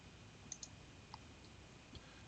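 A few faint, soft computer mouse clicks tap quietly against low room hiss while saving an email marketing letter.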